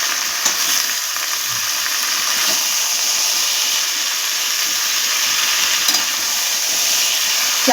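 Red amaranth leaves sizzle in a pan, a steady close hiss of frying with faint stirring scrapes and no talk.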